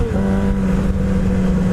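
Loud, steady exhaust drone from a truck with duct tape on it, echoing inside a tunnel, with a low sustained engine hum that holds constant throughout.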